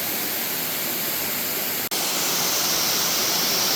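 Cascade Falls in Virginia's Jefferson National Forest roars in a continuous, broad rush of falling water, loud and close, with a brief dip partway through.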